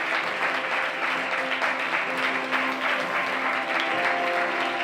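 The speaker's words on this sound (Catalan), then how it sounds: "Un fort aplaudiment, per favor, per elles." Audience applause for award winners at a ceremony, a continuous even round of clapping from many hands, fairly close, with a low hum and some voices faintly underneath.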